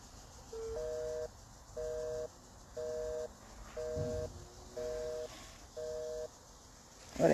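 A phone number being dialed: six evenly spaced keypad tones, each about half a second long, ring out at a steady pace over a faint background hum, and a sharp noise closes the sequence.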